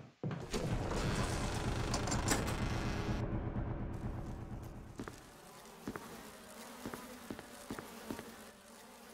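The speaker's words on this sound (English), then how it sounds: "The bees." A loud swarm of bees drones in Resident Evil, a thick continuous buzz that gradually fades, followed by a run of sharp intermittent clicks and taps with no speech.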